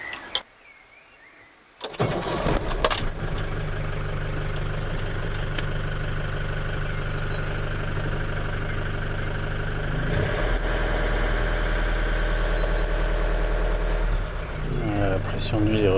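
Iveco engine cranking and catching after an oil change, a brief quiet moment then an abrupt start into a steady, loud mid-pitched idle with a low rumble that holds and slightly deepens toward the end.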